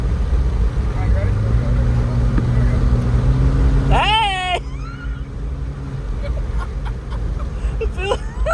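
Chevy S10 truck with nitrous accelerating, its engine droning steadily and stepping up in pitch as it shifts, while people in the cab shout excitedly.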